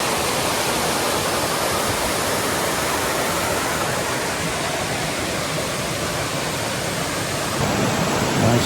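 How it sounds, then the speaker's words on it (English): Cascading waterfalls along the Appalachian Trail, a loud, dense and unbroken roar of falling water that fills the whole stretch with no voices. "Check out these cascading waterfalls."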